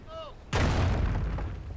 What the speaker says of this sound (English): Our base is in range of the kraut artillery. They're gonna keep pounding on us till we silence their rocket launchers!